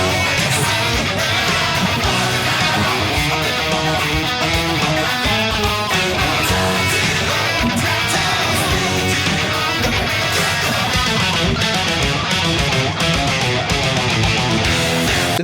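Dense, full-band playing of the chorus of a song, with busy rhythmic electric guitar over driving drums and bass, loud and continuous throughout.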